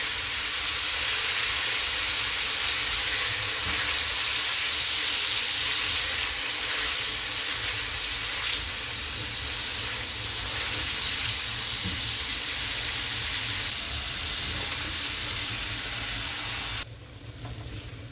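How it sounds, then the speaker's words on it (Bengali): Chicken and mushrooms frying in a pan for a creamy white sauce pasta, giving a steady, loud broadband sizzle that runs without a break for the whole stretch and drops off briefly near the end. "আমি এখানে চিকেন এবং মাশরুম দিয়ে ভালো করে ফ্রাই করে নিব।"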